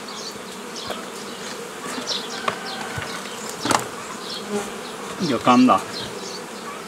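Honeybees hum steadily around an apiary's beehives, a dense continuous buzz with individual bees zipping close past now and then, plus a few brief knocks and a short spoken word near the end.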